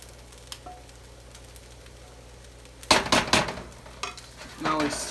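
Beaten eggs being stirred into fried rice in a hot pan: quiet at first, then a burst of close scraping and sizzling from about three seconds, with a few further stirring surges.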